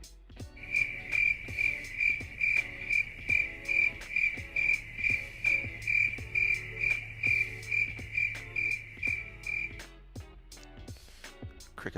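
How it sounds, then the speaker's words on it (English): Crickets chirp in a steady, rhythmic series of bright pulses that sound close and clear, continuing for most of the stretch before stopping near the end, with no talk over them. "I love crickets."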